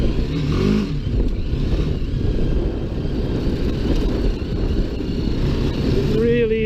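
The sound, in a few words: BMW G310GS Rallye motorcycle riding off-road through ruts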